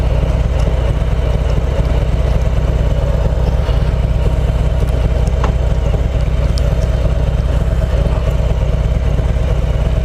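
A 2018 Harley-Davidson Heritage Classic 114 V-twin runs close and loud, a steady throbbing low rumble with a fast regular pulse and faint mechanical clatter throughout.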